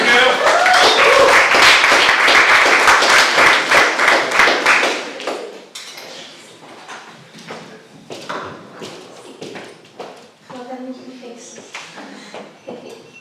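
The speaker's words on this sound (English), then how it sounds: "Give her a big round of applause, Becky." An audience at a poetry event for World Homeless Day bursts into loud, close applause for a poet, dense clapping that holds for about five seconds, then fades into scattered claps and murmuring voices.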